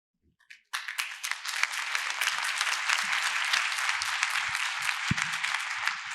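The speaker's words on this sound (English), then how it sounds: "Another round of applause." After a short pause, an audience at a keynote session bursts into sustained applause, a dense, even wash of clapping that holds steady for several seconds, fairly close and with no voices on top.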